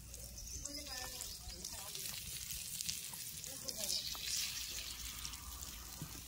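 Chicken pieces frying in hot oil on a heated clay roof tile over an open fire, a soft continuous sizzle with faint crackles, quiet and close, while a person talks.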